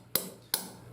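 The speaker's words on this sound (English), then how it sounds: "if I put that in there and wallop it with a hammer" Two sharp metallic hammer blows about a third of a second apart, driving a core plug into a 1931 British Dodge engine, each ringing briefly before fading, against quiet background hiss.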